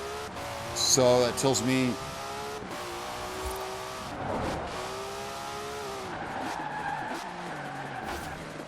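A car in Forza Horizon 4 oversteers and skids, with a loud tire squeal sweeping in pitch over the revving engine, while someone talks over it.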